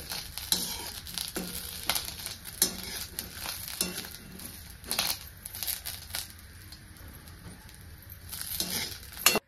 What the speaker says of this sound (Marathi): तर आपल्याला चांगला दोडका ह्याच्यावर भाजून घ्यायचा आता.